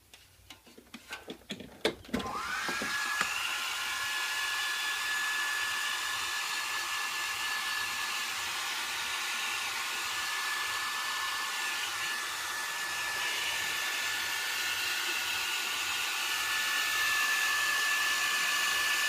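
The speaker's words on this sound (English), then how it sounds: "I'm just going to hair dry this because I'm in a bit of a hurry." A hair dryer blowing on freshly applied rat rod rust paint on a model car, starting after a few clicks and then running as a steady, continuous whir with a high whine.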